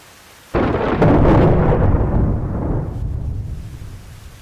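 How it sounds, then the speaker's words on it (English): A sudden loud thunderclap from a lightning strike in the Arma Reforger video game, a sharp crack that rolls into a long rumbling decay, heard alone with no talk. "Add bolts of lightning in the background."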